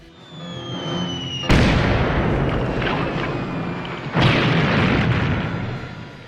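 A mortar explosion effect from the 1960s Star Trek episode Arena: two loud, deep booms, the second about three seconds after the first, each with a long rumbling decay.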